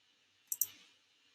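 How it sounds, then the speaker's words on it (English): Two quick, faint computer mouse clicks in rapid succession, crisp and close, standing alone in near silence. "you can just click on this option"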